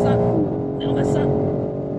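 A new BMW M3/M4 accelerates down the straight of an Australian race track, the engine droning loudly and steadily from inside the car while someone speaks excitedly over it.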